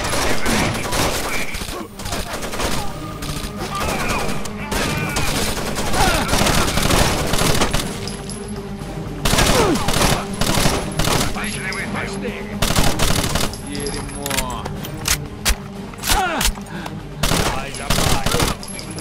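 Gunfire in the video game Rainbow Six Vegas 2, with dense automatic bursts and rapid repeated shots that run loud and close nearly throughout, broken by brief pauses and thuds, with occasional voices beneath.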